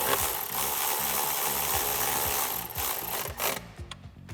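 An 8mm socket on a ratchet snugs a bolt while a K&N Series 63 AirCharger cold air intake is fitted to a Bronco, giving close, rapid, evenly spaced ratchet clicks that grow uneven and trail off at the end.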